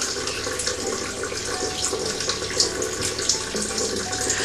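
Tap water runs steadily into a sink as Garnier smooth and soft gentle cleansing foam is rinsed off a face, with splashes and patters over the flow and no talking.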